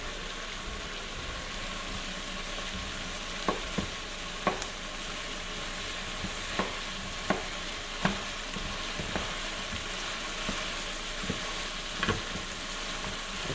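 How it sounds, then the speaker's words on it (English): Meat fries in pooled grease in a pan, a steady soft sizzle with occasional crisp pops and scraping taps of a utensil stirring. "You can see that grease is starting to pool up in the bottom of the pan."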